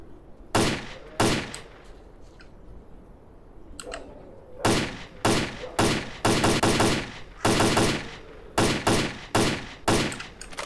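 Bursts of automatic gunfire with armor-piercing rounds in the shooter game S.T.A.L.K.E.R.: Clear Sky, loud and close, in about a dozen sharp rapid volleys separated by short pauses.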